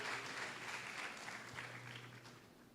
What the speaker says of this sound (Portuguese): eu vou pedir para vocês aplaudirem ao Senhor pela vida dele mais uma vez